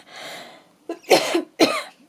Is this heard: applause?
no